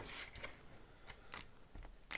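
Board game unit counters from a Savage Streets playthrough are shuffled by hand in a stack, giving light, crisp clicks and rustles that come and go in short bursts with quieter gaps between them. No voices are heard.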